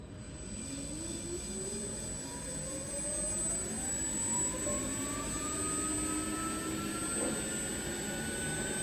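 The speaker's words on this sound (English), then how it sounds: "We can see the electric axle is running towards me." A Rawsuns READ4200 electric axle with integrated differential and gearbox whines as it accelerates, a rising electric tone climbing in pitch over a steady broadband rumble, close and continuous with no voices.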